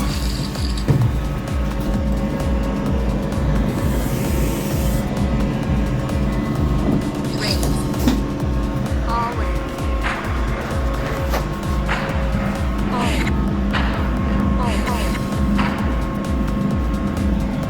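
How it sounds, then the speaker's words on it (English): Loud, rhythmic mechanical rattling and clattering with steady rumble underneath, from a noisy toilet aboard a moving train. "Oh god, this toilet's noisy."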